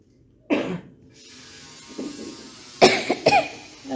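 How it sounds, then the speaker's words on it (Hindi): Several harsh coughs: one near the start, then a fainter one, then two rapid forceful coughs close together toward the end. "रुकेगी नहीं खांसी"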